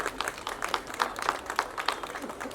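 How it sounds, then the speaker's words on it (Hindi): Audience applause at a film trailer launch, a moderate patter of claps rising and falling in uneven bursts throughout, fairly close and with no talk over it. "थोड़ी सी तालियां जरूरी होती है।"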